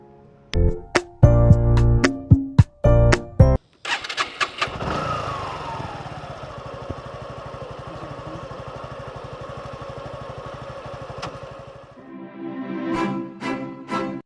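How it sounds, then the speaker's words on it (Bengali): A motorbike in Bhola Sadar cranks and catches, then settles into a steady mid-pitched idle that runs for several seconds before cutting off. Music plays around it at the start and end. "বাইক স্টার্ট করবো"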